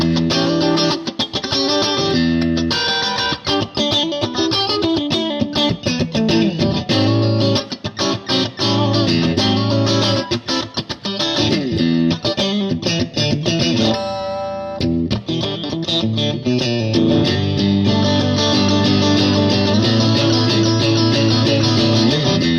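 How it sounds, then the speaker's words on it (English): A Paul Reed Smith Silver Sky electric guitar, a Strat-style instrument, plays through a Bad Cat Cub 40R amp head, with loud, continuous funky chords and riffs, one brief pause midway, and no voices. "up next we've got a Paul Reed Smith Silver Sky, kind of stratty"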